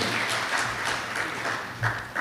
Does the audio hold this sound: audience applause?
yes